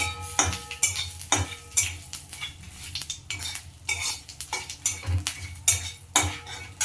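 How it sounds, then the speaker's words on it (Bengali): Bay leaf and dried red chillies tempered in a little hot oil for an egg curry, stirred with a metal spoon: repeated sharp scrapes and clinks against the pan over a light sizzle, with no talking. "তেজপাতা, শুকনো লঙ্কা ফোড়ন দিয়ে একটু নাড়াচাড়া করে নেবো।"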